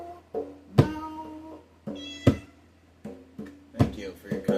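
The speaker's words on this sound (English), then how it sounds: "Sausage the cat has decided to enter the chat" Sausage the cat meows several times at irregular intervals, each call drawn out and close, with thumps and voices mixed in between.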